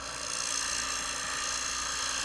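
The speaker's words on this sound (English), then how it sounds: "Let the lathe do the work. The lathe is the muscle." A wood lathe spins a workpiece while a gouge takes a very light cut, producing a continuous close, even whirring hiss with no break.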